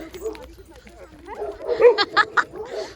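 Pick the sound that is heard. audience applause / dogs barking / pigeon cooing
dogs barking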